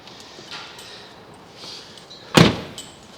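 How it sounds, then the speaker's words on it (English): A car door shuts with a single solid thump, near and sharp, after a few soft rustles in a quiet setting. "Couldn't you get out to help shut the door?"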